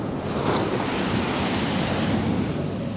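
Ocean surf at Virginia Beach in winter rolls in as a steady, loud wash of breaking waves, with wind buffeting the microphone throughout.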